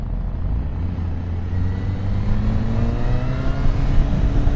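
Honda CB1000 Hornet naked bike with a baffled exhaust, its engine droning steadily and climbing gradually in pitch as it accelerates, loud and close with no talk over it.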